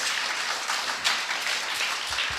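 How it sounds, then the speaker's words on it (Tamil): Audience at a church feast day gathering clapping together in continuous applause, a dense even wash of many hands at moderate distance, with no talk over it. "ஓங்கி எல்லாத்துக்கும் சேர்ந்து ஒரு கைத்தட்டு தட்டலாமா?"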